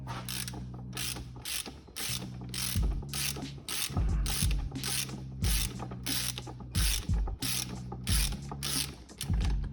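A gear puller works the 5th gear and hub off a classic Mini gearbox during a limited-slip differential and 5th gear swap. It gives loud, repeated ratcheting clicks in a steady rhythm, with metallic creaks and clunks as the gear gives way, and no voices.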